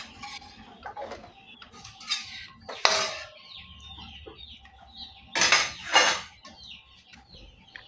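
Sliced onion and garlic stirred into shrimp paste in a cooking pan, a utensil scraping and clanking against metal in a few louder bursts, with chickens clucking faintly in the background.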